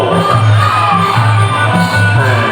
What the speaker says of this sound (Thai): วันนี้กองเชียร์ก็มาเชียร์กันเยอะเลยครับ